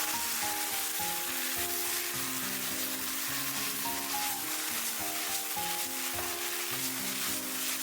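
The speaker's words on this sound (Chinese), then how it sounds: "炒个30秒左右，使料汁都能包裹在食材上面" Sliced beef with scallions and sauce stir-fried in a hot wok, a continuous close sizzle with rhythmic scraping and tossing of the spatula throughout.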